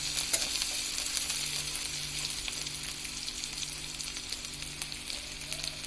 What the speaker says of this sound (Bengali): আমাদের পেঁয়াজটা এখন ভাজা হবে